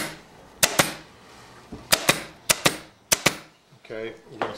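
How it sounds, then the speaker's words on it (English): A staple gun fires sharp, loud snaps while fastening upholstery fabric to the back of a chair, in quick pairs spread across several seconds, with faint handling noise between shots. "And we're going to staple that on the back."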